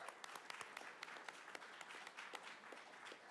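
Audience at a school board meeting applauds students, a steady patter of many hands clapping at moderate volume from across a room, with no talk over it.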